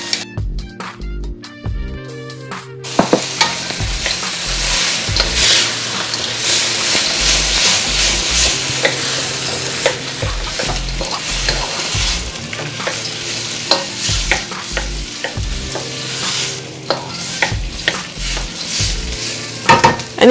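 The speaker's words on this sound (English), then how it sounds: "Now we're gonna add our frozen vegetables," Frozen peas and carrots stir-frying in a hot pan for shrimp fried rice, a loud continuous sizzle with frequent scraping and rattling of the spatula against the pan, plus a brief musical jingle at the start.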